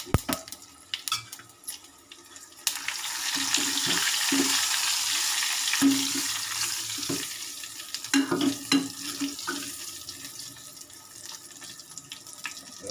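Tempering for a greens bassaru sizzles in a pan as a steady, moderate hiss that rises and then fades. Clanks of a utensil against metal and light clattering come through close by, with no talking.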